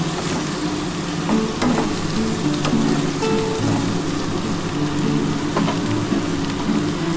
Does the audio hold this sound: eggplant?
yes